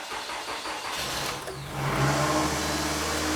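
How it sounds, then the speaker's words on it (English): A Toyota RAV4 engine cranks with a rhythmic whirring for over a second, then catches and settles into a steady, close idle. "Little bit of a long crank. It's running good."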